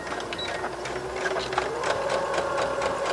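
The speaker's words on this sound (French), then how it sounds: "Et là, je vais venir me coudre directement dans les coutures pour venir fixer mes poches." A sewing machine runs steadily, stitching a pocket onto a canvas backing along the seam. It is a continuous close mechanical whir with a fast rhythmic needle beat that rises slightly toward the end.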